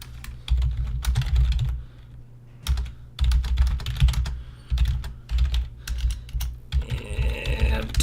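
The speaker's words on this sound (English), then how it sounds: "And too slow at typing." Rapid bursts of typing on a computer keyboard, clattering keystrokes in clustered runs separated by short pauses, close and clear during an online game match.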